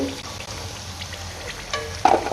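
Wheat flour gavvalu frying in hot oil for a second time, giving a steady close crackling sizzle with a brief bright clink near the end.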